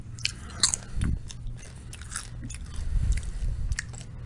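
Doritos dipped in Japanese curry with rice and beef are bitten and chewed close up, producing several sharp crunches and softer chewing sounds spread across a few seconds.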